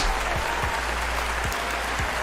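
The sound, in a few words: applause from the live stream audience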